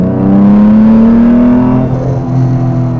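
A restored Jaguar E-Type's XK straight-six revs hard while driving, a loud, close engine note rising steadily in pitch and then easing back, heard alone.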